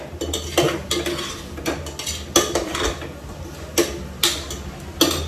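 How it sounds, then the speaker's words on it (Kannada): Vegetables being stir-fried in oil for a ghee rice kurma, with repeated metallic scrapes and clinks of a spoon against the pan in an uneven rhythm over a steady low background. "ಆಯಿಲಲ್ಲಿ ಇವಾಗ ಸ್ವಲ್ಪ ತರಕಾರಿನೆಲ್ಲ ನೀಟಾಗಿ ಫ್ರೈ ಮಾಡ್ತೀನಿ."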